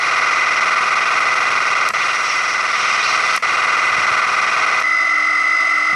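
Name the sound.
Heavy's minigun firing, spinning and winding down in Team Fortress 2 video game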